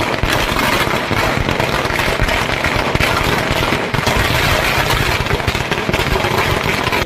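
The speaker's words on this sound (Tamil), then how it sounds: "இதனை லாரி உரிமையாளர்கள் பட்டாசு வெடித்துக் கொண்டாடினர்." Firecrackers set off by water tanker lorry owners celebrating the end of their strike crackle in a loud, dense, continuous rattle of rapid bursts for the whole stretch, with no one talking.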